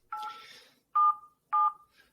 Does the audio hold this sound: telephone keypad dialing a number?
yes